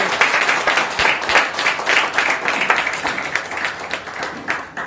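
Loud applause from an audience in a hall at a marketing event, a dense, continuous roar of many hands clapping that carries on steadily throughout.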